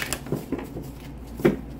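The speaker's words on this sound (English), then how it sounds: "One more shuffle." Tarot cards riffle and slap together in a quick, soft shuffle, a few brief flicks close by with no talking.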